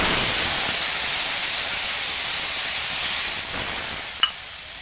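Masala sizzling and hissing in a pan for a Bengali magur fish curry as water goes in, a steady broadband sizzle lasting throughout with a brief sharp tick near the end.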